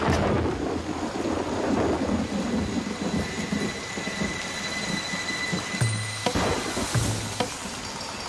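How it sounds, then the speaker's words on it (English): Rain and thunder in a film scene: a steady wash of rain under a deep, rolling thunder rumble, with a couple of sharper low thuds toward the end and no speech. "it starts to rain here"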